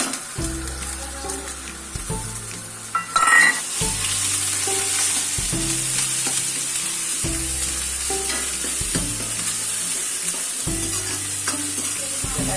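Ground garlic and ginger paste sizzles in a pan for samosa filling, a bright steady frying hiss punctuated by regular scraping stirs and clinks of a spoon against the pan, close and clear with no talking.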